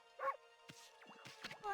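A dog in the video game Ōkami HD gives a few quiet yips and barks, short and spaced, set against faint game music.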